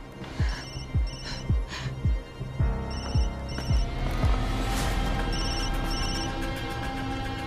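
After a redial, a telephone rings out in a tense drama scene, its repeated electronic ring pulses clear and close over a deep throbbing music score, alone without speech.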